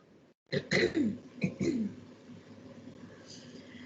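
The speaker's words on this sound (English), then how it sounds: "sorry if I keep clearing my throat" A person clears their throat a couple of times in quick, rough bursts, close to the microphone, followed by quiet background.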